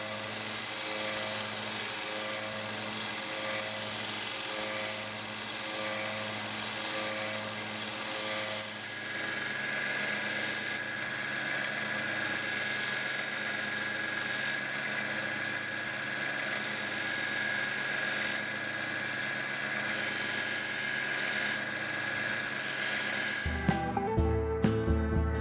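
A belt grinder with a 400 grit belt, then conditioning belts, cleans up the steel bolster of a Camillus TL-29 pocket knife, giving a continuous close abrasive whir and hum that ends abruptly.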